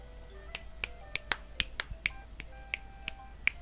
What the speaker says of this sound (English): Can you hear the snapping?